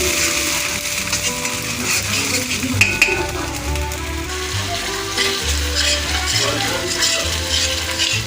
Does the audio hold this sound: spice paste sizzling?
yes